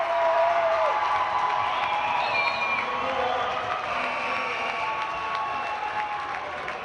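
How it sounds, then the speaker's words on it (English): Crowd noise in a gym at a high school basketball playoff game near the final seconds: a loud, continuous roar of cheering and shouting with scattered whoops and clapping, sustained throughout. "Listen to this crowd"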